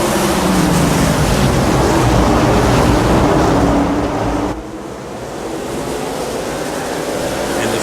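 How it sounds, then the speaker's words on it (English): A pack of CMC Sportsman Series race cars roars around the Martinsville short track in a dense, steady engine drone, which drops slightly as the field passes, while a commentator talks over it. "Bad start by Fayash, and here we go, racing once again"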